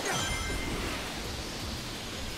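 A waterfall in the video game Shadow Generations gives a steady, dense rushing hiss. It holds at an even level throughout, with no talk.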